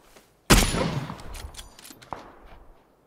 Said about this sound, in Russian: Там вот стреляют, кстати.